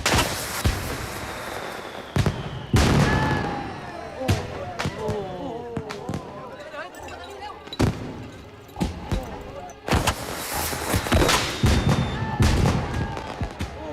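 Sharp explosive bangs and crackles burst at irregular intervals, some near and loud, with people talking and shouting over the noise.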